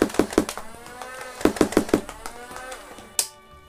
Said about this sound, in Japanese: こちらのアクセラレートボタンを押すと、 ここら辺のモーターが回転します。